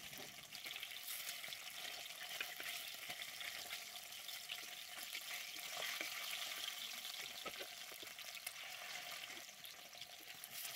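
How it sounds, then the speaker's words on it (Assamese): Pieces of fish half-fry in hot mustard oil in a wok over a gas flame, giving a soft, steady crackling sizzle with scattered pops that stays quiet and close. "মিঠাতেল দি তেলখিনি গৰম হোৱাত মাছকেইডোখৰ আধা ফ্ৰাই কৰি লওঁ।"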